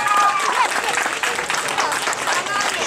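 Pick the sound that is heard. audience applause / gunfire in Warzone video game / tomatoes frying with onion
audience applause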